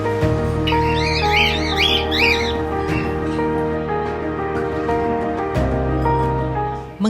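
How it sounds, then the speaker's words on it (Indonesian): Several caged pet macaws and parrots in Manado, Indonesia chirp and squawk in bursts, close by over a steady low mechanical hum. "Sampai sekarang koleksi burung yang ia miliki bisa sebanyak ini"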